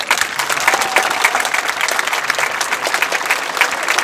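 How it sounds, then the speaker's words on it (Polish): Crowd applause fills a Midsummer Night (Noc Świętojańska) 2022 celebration at Ekomarina, continuous, even clapping from many hands at a steady loudness throughout. "także wielkie brawa."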